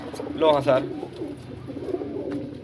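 Eighteen pigeons crowded in loft compartment number 4 coo and rustle softly while someone speaks briefly over them.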